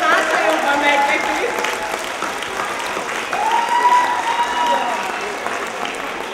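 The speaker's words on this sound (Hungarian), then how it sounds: "Egy kis tapsal búzdítsuk az igazgatót" Applause at a Hungarian carnival show in Bük, a crowd clapping steadily with voices calling and talking over it, swelling slightly midway before easing off.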